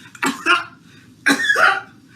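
A comedian imitates coughing with his voice, two rough hacking coughs about a second apart, each breaking into a couple of bursts, close and clear against a faint low background.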